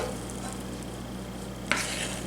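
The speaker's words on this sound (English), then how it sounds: "Make sure it's mixed up good." Thick yogurt cake batter being stirred by hand in a bowl, a steady soft wet churning with one brief sharper scrape of the utensil against the side, close and alone with no voices.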